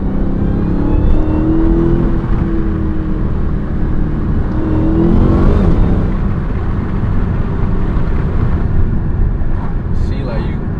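A Dodge Hellcat with its mid muffler deleted pulls hard from inside the cabin, a loud, steady low engine roar that rises in pitch and then falls back, with someone speaking over it.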